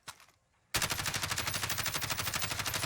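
Kilo 141 assault rifle firing in Warzone, a short burst, a pause, then a sustained loud rapid-fire volley with evenly spaced shots that continues to the end.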